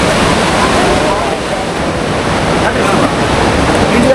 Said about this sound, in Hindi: ये सामने बह रही है काली नदी।